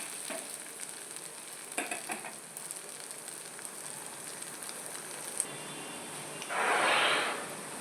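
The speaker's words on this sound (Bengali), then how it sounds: "তো এই স্টেজে আমি এগুলো এখানে ভাজতে দিয়ে দিলাম।" Nikuti sweets, a few pieces at a time, fry in hot oil with a steady, even sizzle that swells into a louder, bubbling hiss near the end.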